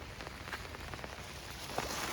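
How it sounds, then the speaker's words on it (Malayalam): Rain falls steadily, a dense, even hiss of drops on surfaces with occasional closer drips, moderately loud and with no talking. "നല്ല മഴക്കാർ പെയ്തു തോന്നുന്നു അല്ലേ?"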